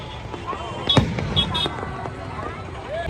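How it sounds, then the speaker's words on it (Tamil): Firecrackers burst at the Tiruvannamalai Deepam festival: a sharp crack stands out among scattered pops and crackles at mid distance, with people talking underneath. "ஃபுல்லா பட்டாசுலாம் வெடிச்சிட்டு இருக்காங்க."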